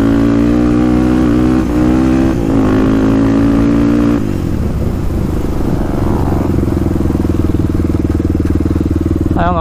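Honda 400ex ATV engine revs up and down in repeated throttle blips, then holds a steady loud idle-to-mid drone, with a slight exhaust leak; close and loud throughout.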